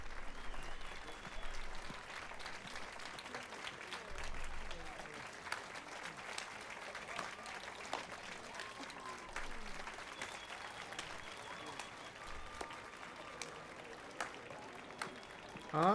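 An audience claps after a song in the video game The Witcher 3, a long faint patter of many hands that goes on steadily at a distance, with a soft voice now and then beneath it.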